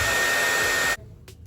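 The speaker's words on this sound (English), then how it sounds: "So I guess I am gonna blow dry it after all" A hair dryer blows steadily and loudly while drying short type 4 hair, then switches off abruptly, leaving quiet room tone.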